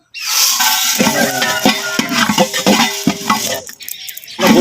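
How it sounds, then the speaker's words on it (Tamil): Garam masala spices being dry-roasted without oil, stirred and scraped in a pan, with repeated clinks of a spoon against metal and a steady rustling crackle, close and fairly loud. "இப்போ கரிம மசாலா எண்ணெய் இல்லாமல் இப்போ வதக்கிக்கிறோம்"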